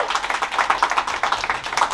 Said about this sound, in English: Come on, clap. Pretend like you're at a